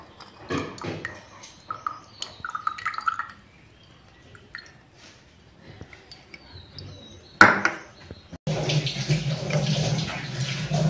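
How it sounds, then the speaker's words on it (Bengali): Homemade rose water is strained and poured into a small bottle: close, intermittent trickles and drips, then a steadier pouring rush near the end, with faint clinks of glass. "তারপর এখন আমি জলটা ছেঁকে এই ছোটো কিউট বোতলটাতে ভরে নিব।"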